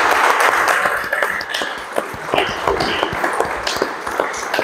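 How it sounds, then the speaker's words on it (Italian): Applause in the Monte di Procida town hall during a newly re-elected mayor's visit: a dense patter of many hands clapping, fairly close, fading slightly then holding steady. "a cui va il nostro applauso"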